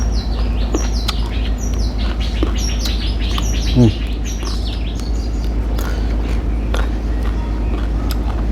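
Small birds chirp and tweet in quick, repeated calls over a steady low hum of traffic outdoors, with a brief louder thump midway through.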